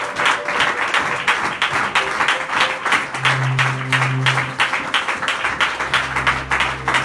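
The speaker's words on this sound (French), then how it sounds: "acclamer pour la gloire de l'Éternel" A church congregation claps steadily and loudly at a Sunday worship service, dense continuous applause throughout with a low sustained tone beneath it.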